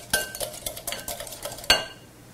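Spoon stirring a quiche filling of Canadian bacon and baby bella mushrooms in a bowl, soft repeated scraping and clinks with a sharper knock near the end, close and fairly quiet.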